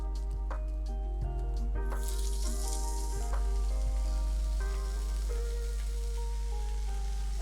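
Bacon strips sizzle and fry in a hot pan, a steady crackling hiss with scattered pops that swells as more strips go in, close and fairly loud with no talking.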